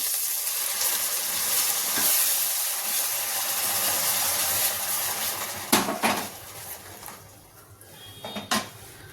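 Blended tomato frying in a pan with ginger-garlic paste and coriander, a steady broad sizzle with a few sharp clanks of a utensil against the pan near the end.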